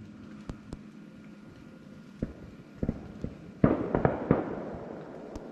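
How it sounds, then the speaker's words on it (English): Distant fireworks popping and booming, heard from a truck tent at a campsite, scattered single bangs at first, then a cluster of louder crackling explosions, with quiet gaps between. "You guys hear the fireworks?"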